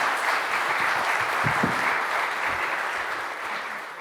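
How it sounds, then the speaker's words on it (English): Evening event audience at a global goals gathering gives a big round of applause, dense, continuous clapping that fills the room and tapers slightly at the close. "A big hand, a big round of applause, please."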